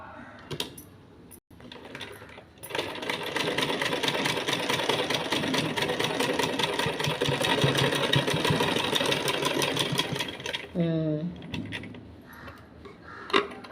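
Sewing machine stitching fabric during a tailoring class, a steady mechanical whirring run of about eight seconds at close range after a few brief starts, stopping abruptly before a short rising squeak near the end.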